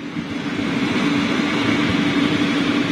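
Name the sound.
Boeing 747 freighter General Electric engine number 2 starting up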